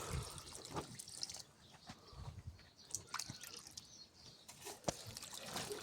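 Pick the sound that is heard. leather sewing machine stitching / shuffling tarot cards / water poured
water poured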